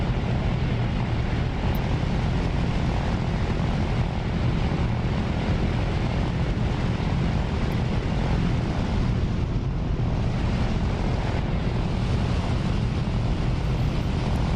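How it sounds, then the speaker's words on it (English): A Focke-Wulf Fw-190 fighter in a flight game idles steadily on the ground while its engine warms up before taxiing, a continuous loud propeller drone with a broad rumble that holds even throughout. "let's let this thing warm up for a couple of minutes, or a couple of seconds I should say, and then we'll start taxiing out"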